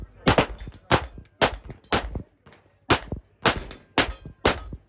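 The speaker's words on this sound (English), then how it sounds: "Let's run a few rounds here." Eight sharp, loud shots from a DR920P pistol with a built-in compensator on an outdoor industry range, fired one at a time at a steady, unhurried pace, each crack followed by a short ringing decay.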